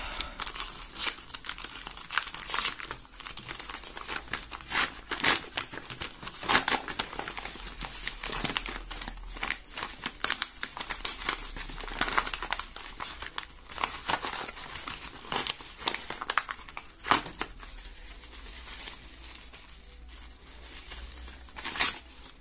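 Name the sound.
opening mail packages, crinkling and tearing packaging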